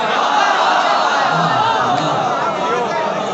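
Audience at a manqabat recital in a Lahore imambargah, a loud continuous roar of cheering and crowd voices filling the whole stretch, with clapping hard to pick out.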